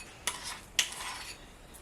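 A utensil scrapes and clicks against a bowl while creaming a garlic butter mixture, two distinct sharp scrapes over a soft, quiet rustling background.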